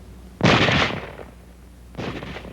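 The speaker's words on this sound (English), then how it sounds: "It can fire only as fast as a man can open and close the bolt." A bolt-action rifle fires two shots, a loud close sharp blast with a ringing decay, then a second softer report about one and a half seconds later.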